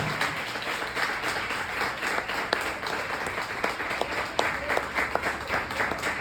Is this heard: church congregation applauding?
yes